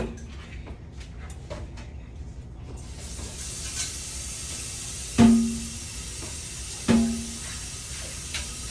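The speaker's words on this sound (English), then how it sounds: "I'm going to use the same pot to fry up the sausage." Sausage frying in a pot while making Alfredo pasta, a steady hiss of sizzling fat rising partway through, with two sharp metallic knocks from utensils against the pot, close by and without talk.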